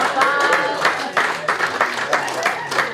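Guests at a 21st birthday party break into brisk clapping and cheering, a dense burst of applause close by with voices mixed in.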